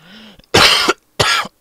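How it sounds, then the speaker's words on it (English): A single person coughs twice, close and loud, two sharp bursts after a brief faint voiced sound. "Probably coughing in someone's ear."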